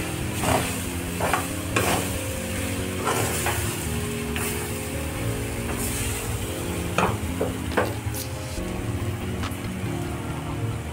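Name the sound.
frying food in a pan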